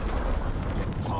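Brief rumbling blast from an explosion perk in the video game Shadow of War, a dense, booming burst that fills the short moment.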